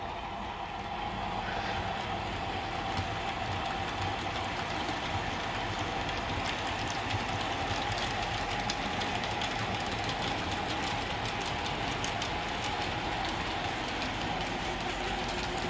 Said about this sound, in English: We now have the E9s, Black Widow E9s, pulling our train.